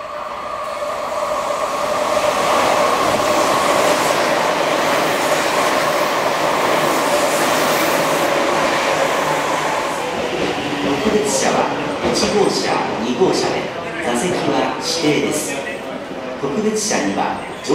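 A Meitetsu limited express train passes through a station platform without stopping, a steady loud rumble filling the first ten seconds before fading into clattering wheel noise and softer rail sounds, its music horn not sounding.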